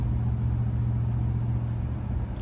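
Honda Rebel motorcycle fitted with a Carven progressive exhaust at highway speed, a steady low engine drone with constant wind rush, loud and close throughout with no talking.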